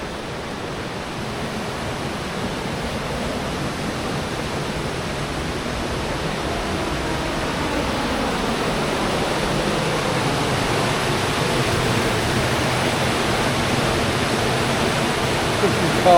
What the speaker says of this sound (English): This is a far bigger water wheel too